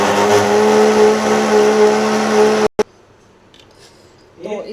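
A kitchen grinder blends a drink mixture with salt, running as a loud, steady motor whir for under three seconds before cutting off abruptly, followed by quiet handling noises.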